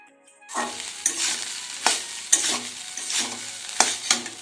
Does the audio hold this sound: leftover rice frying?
yes